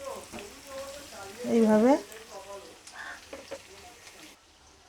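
New potatoes, cut into fairly large pieces, sizzle as they fry over onions in a pan, a soft steady crackle running beneath a voice that talks throughout.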